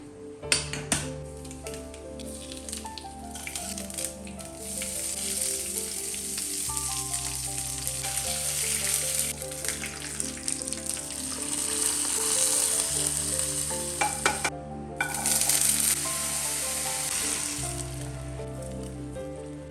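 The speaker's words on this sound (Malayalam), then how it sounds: "അതിന് ശേഷം നമുക്ക് പൊട്ടറ്റോയും കൂടി ഒന്ന് ഫ്രൈ ചെയ്തെടുക്കാം." Boiled potatoes fry in coconut oil with Kashmiri chili powder, sizzling steadily close by. Utensils clink and stir against the pan at intervals, and no one speaks.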